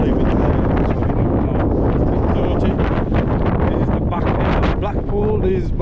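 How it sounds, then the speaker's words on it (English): Strong wind roars and batters the microphone throughout on the streets of Blackpool, loud and constant, with a voice faintly audible beneath the buffeting. "So guys, it's really windy, guys. It's really, really, really windy."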